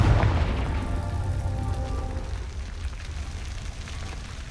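Confringo explosive spell in Hogwarts Legacy, a deep, loud boom at the start that rolls into a long, decaying rumble and fades away.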